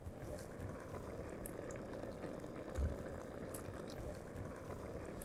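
Water boiling in three small pots for a garlic sauce in a kitchen, a soft, steady bubbling hiss that runs quietly and evenly throughout, with one brief low thump midway.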